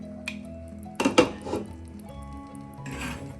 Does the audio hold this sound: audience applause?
no